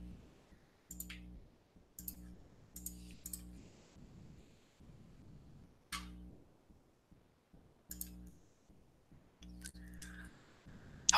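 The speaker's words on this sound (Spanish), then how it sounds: "le voy a dar doble clic" Computer mouse clicks during an online teaching session, sharp faint clicks, some in quick double pairs, scattered over several seconds against a low steady hum.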